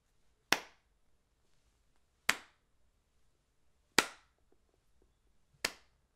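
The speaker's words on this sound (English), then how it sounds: "I'd like to give a nice slow clap" Four single hand claps ring out slowly and evenly, spaced about two seconds apart, sharp and close against near silence.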